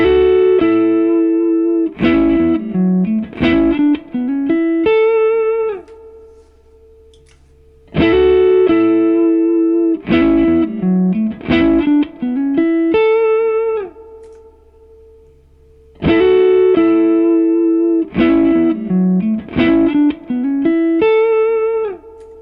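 Looped electric guitar phrases run through an overdrive pedal, an Analogman King of Tone compared with a Line 6 Helix Tone Sovereign model. Crunchy distorted chords and single notes repeat in a cycle of about eight seconds, loud and alone.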